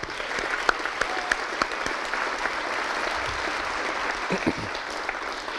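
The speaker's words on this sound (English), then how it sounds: "Will you all join me in a round of applause" An audience at a city event applauds, a moderate patter of clapping with a few louder claps standing out, steady and fairly close.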